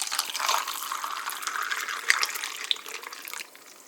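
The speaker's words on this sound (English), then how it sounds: "And now we pour in the water" Water pours steadily over ice cubes in a container, a continuous splashing gush that tapers off near the end.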